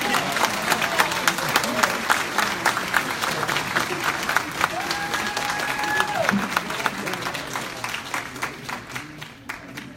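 An audience at a city of Detroit award of recognition during a monthly meeting claps steadily for about ten seconds, dense and fairly loud, tapering slightly at the end.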